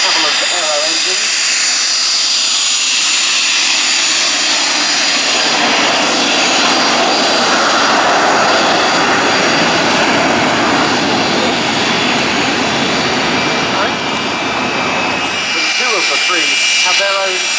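Vintage de Havilland DH88 Comet racer leading a pair of Percival aircraft, all with de Havilland aero engines, flying past at an air festival: a loud, sustained engine drone swelling and fading over the pass, with a commentator talking over it.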